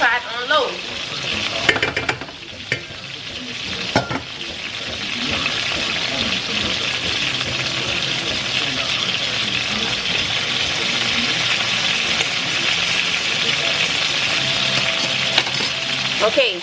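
Chicken meat sizzles steadily in a pot on low heat, with broadband frying hiss filling the whole stretch and occasional clinks and scrapes of stirring near the start, fairly loud and close.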